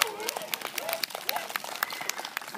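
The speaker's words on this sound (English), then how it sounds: "Can we please give a round of applause for Aliyah?" Scattered clapping from a small crowd at a children's dinosaur doctor show, sharp irregular claps over a murmuring room with children's voices in the background.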